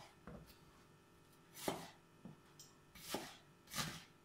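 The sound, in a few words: food processor chopping vegetables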